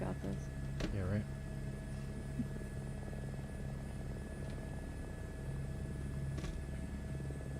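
Steady rotor thrum and engine drone of a helicopter in Microsoft Flight Simulator 2024, a continuous low rumble running throughout while a person talks over it.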